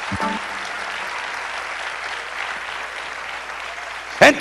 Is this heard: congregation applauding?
yes